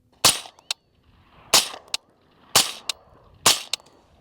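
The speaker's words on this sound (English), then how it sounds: "So I'm gonna aim suppressed, we're gonna aim headshot right here and see how it does." Four sharp, close suppressed gunshots from a Griffin Armament HRT 556 rifle fired at a target about 15 feet away, evenly spaced roughly a second apart, each with a brief tail and faint clicks between.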